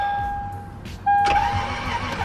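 A Lexus IS300 being started, with a dashboard chime tone followed by a brief starter crank that fails to catch, close and fairly loud inside the car.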